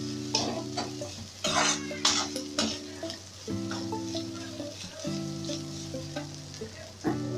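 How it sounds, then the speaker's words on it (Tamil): Green chili and garlic sauté in a pan for onion chutney, with a steady sizzle, repeated stirring scrapes and a droning tonal hum underneath. No one speaks. "டேஸ்ட்டுக்கு பூண்டு போட்டுடலாம். போட்டு வதக்கி விட்டுட்டு"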